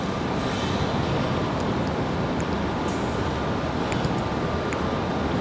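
A Southwest airliner arriving at Raleigh-Durham International from Chicago Midway makes a steady, broad jet roar that holds even and fairly distant throughout.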